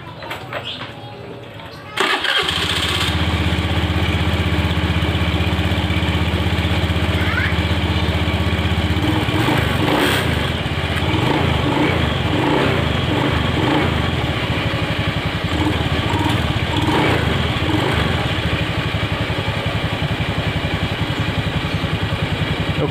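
A Honda Beat or Vario motorcycle fitted with an Astrea Grand foam air filter idles loudly and steadily up close, with several throttle blips revving it up and back down.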